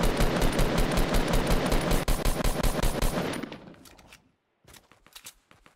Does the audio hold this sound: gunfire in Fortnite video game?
yes